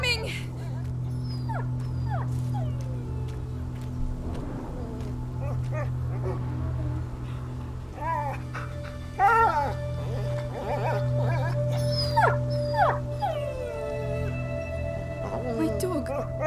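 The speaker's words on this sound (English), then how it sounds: "My dog." Whimpering dog in A Plague Tale: Innocence, heard in a medieval rural setting: a series of high, wavering whines and yips over a steady low drone, with voices talking at times.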